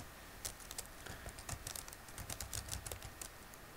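Java code being typed into NetBeans on a computer keyboard: quick bursts of sharp, close key clicks in uneven clusters with brief pauses, alone without any voice.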